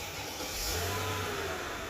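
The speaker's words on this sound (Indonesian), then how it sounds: "nyalain Mercy pada umumnya dan kita putar, dan kita dengerin suara mesin V8 nya" Mercedes-Benz E500 sedan with a non-AMG V8 starting up: a brief crank, then the engine catches and settles into a smooth, steady low rumble, heard up close with no talking.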